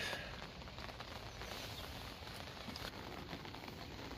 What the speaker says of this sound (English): Oh, and it's bloody raining.